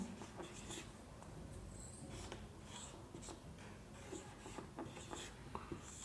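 Chalk or marker writing on a board during a maths lesson, soft continuous scratching and rubbing strokes, faint and close, with no talk over it.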